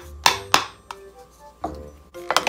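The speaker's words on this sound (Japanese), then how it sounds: "こちらのスプーンを使ってね、真ん中をくり抜いていきましょう。" Several sharp scraping and clunking strokes of a spoon scooping out the hard flesh of a whole pumpkin, irregularly spaced, close up with quiet pauses between.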